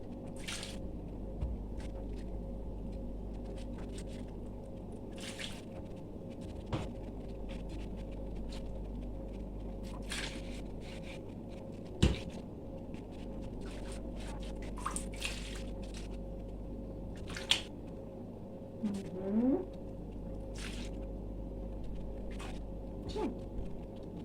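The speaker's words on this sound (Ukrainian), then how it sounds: "викидаю я цю капусту в холодну воду" Low, wet sloshing and scattered soft splashes and drips of cabbage being moved in cold water, with a few sharper knocks, close by and fairly quiet.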